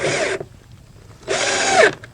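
Power drill driving small deck screws into joist hangers on a new deck under a shed roof, two short whirring bursts separated by a pause, close and fairly loud.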